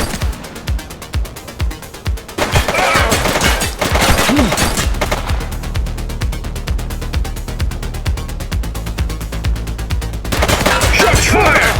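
Gunshots in The Precinct, a police game, begin as spaced single shots and then turn into a long, loud, dense barrage of rapid automatic fire, with brief shouted voices mixed in.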